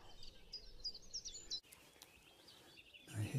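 A song thrush gives a brief burst of high, repeated notes outdoors, faint and distant, which stops partway and leaves quiet ambience.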